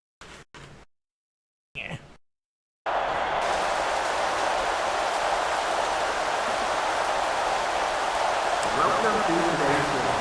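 Steady rain hiss in a football video game, broad and constant after a few brief opening bursts of sound, continuing loud and unbroken to the end.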